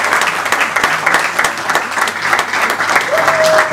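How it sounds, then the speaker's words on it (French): Loud, sustained applause from an audience at a charity gathering, a thick continuous roar of clapping with a few crisp individual claps and a faint tone near the end. "Je vous demande encore de l'applaudir bien fort"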